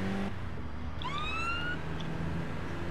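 Police car siren in the video game APB Reloaded, a rising wail sweeping upward over a steady engine and traffic hum, moderately close with no speech.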